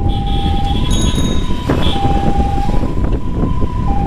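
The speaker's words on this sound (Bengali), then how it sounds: "অ্যাম্বুলেন্স সাইডে যান।" Over dense street traffic near Dhaka Medical College Hospital, an ambulance siren holds a steady, piercing tone that breaks off briefly and resumes, heard at moderate distance under constant engine noise.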